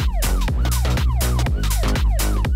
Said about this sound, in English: Add a little siren.